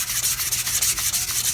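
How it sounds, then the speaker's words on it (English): Dried wood filler being sanded by hand on an antique chair, rapid back-and-forth rasping strokes in a steady rhythm, close and fairly loud with no voices. "So now that the wood filler is dried, Andrew's just sanding it down."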